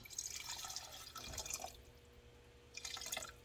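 Two cups of water poured into an Instant Pot for cooking noodles, heard as faint splashing and trickling in short bursts with a brief pause between them.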